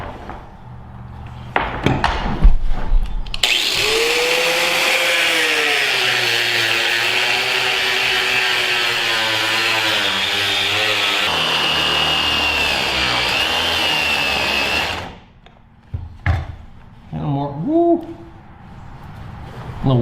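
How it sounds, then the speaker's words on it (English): An angle grinder cuts off a metal blade taken from an 18-wheeler, a loud sustained whine with a pitch that dips and rises, running steadily for about twelve seconds before cutting out, with clatter before and after. "Let's go back to the grinder and cut off the blade."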